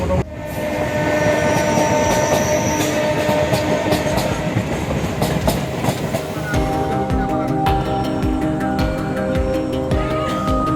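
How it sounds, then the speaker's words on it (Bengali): A train pulls into Sealdah station, heard from inside with loud rattling and clatter of carriages that eases as it slows, with faint voices in the background. "আমাদের ট্রেন এখন শিয়ালদা স্টেশন হচ্ছে"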